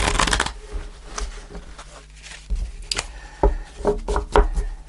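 Tarot cards are shuffled up close in a few quick papery riffling bursts with soft taps and knocks of the deck between them. No one speaks.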